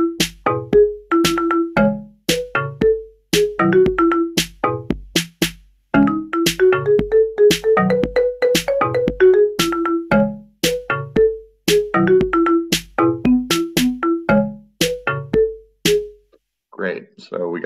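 Synthesized melody of a chorus built in Chrome Music Lab Song Maker: bright, clean electronic notes over a steady plucky beat, played alone and evenly loud, with a short bubbly tail at the end.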